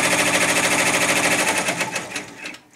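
An embroidery machine stitches background quilting on a Christmas flowers quilt panel, a fast, even mechanical chatter close by that runs steadily, then slows and stops near the end.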